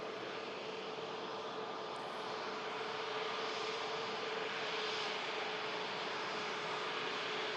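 The world's biggest passenger aircraft being pushed back at an airport gives off a faint, steady engine and auxiliary hum with a thin whine. It sounds distant and unbroken, with no voices.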